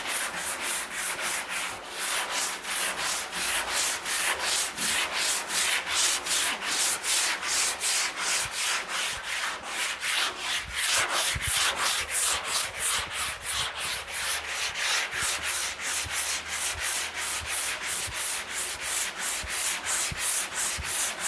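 Body filler sanded on International truck bodywork, a steady, loud rasping rub in quick regular strokes that repeat for the whole stretch with a brief pause, no voices.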